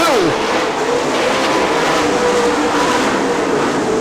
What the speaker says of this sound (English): Travis Whitney down to complete lap number